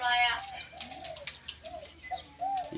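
A decoy dove or pigeon coos repeatedly in soft, close, rising-and-falling calls, with faint background chatter and rustling between the coos.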